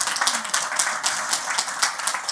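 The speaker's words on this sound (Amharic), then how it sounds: "አጨብጭቡለት በእውነት።" An audience claps and applauds steadily at a livestreamed community event in Germany, the many hands making a dense, continuous patter that comes through moderately loud with no talk over it.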